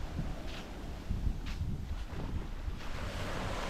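Ocean waves wash onto the beach at Puerto Galera, a steady broadband roar of surf with soft breaking swells and gusts of wind buffeting the microphone throughout, with no one talking.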